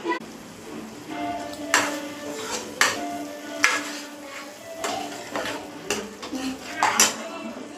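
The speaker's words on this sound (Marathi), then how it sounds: "तर मी आता ह्याला पास्ता ॲड करते" Cooked pasta tipped into a pot with seasoning, producing repeated metal utensil scrapes and clanks against the pot over a low sizzle, fairly close and steady throughout.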